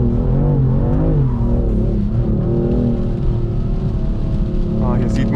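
A BMW M4 engine pulls hard in second gear, its loud, close drone rising and falling steadily through a few seconds with a voice talking over it.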